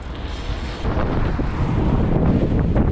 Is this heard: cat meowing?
no